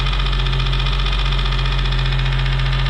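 A 3.5-litre VQ35DE V6 in a 2008 Nissan 350Z, freshly swapped in, idles loud and steady with a constant low drone and mechanical hum throughout.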